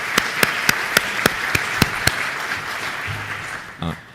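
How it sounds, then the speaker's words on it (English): Conference audience applause, heard as a steady wash of clapping from a crowd with a few sharp louder claps, tapering off near the end. "Let's give them a round of applause"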